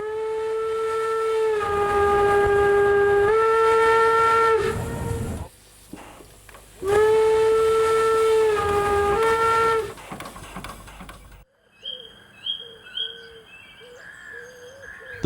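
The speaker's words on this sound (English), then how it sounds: "The whistle consists of an inverted bell or cup against which steam is directed from an annular nozzle." A steam locomotive whistle sounds loud, long, harmonic blasts, two sustained tones with a pause between, then gives way to quieter mixed background sounds.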